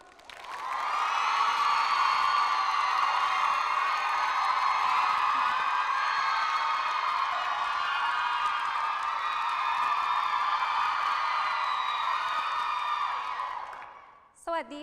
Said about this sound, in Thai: ขอเสียงปรบมือต้อนรับทั้งคู่ด้วยครับ